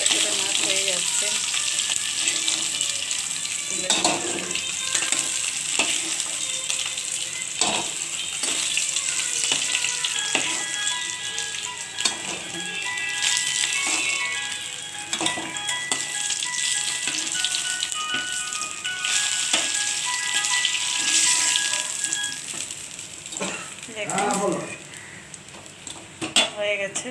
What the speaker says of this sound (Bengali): ভালো করে ভাজা হয়ে গেছে, আর একটু ভাজা হবে